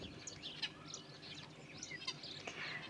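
Starling singing in spring, a quiet stream of chirps, whistles and twittering notes at a moderate distance over a soft background hiss.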